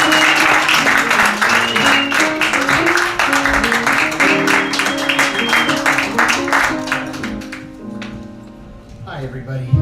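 Audience applause greets a guest introduced at a comedy show for Julian Assange in Washington DC, a loud burst of clapping mixed with music and cheering that thins toward the end.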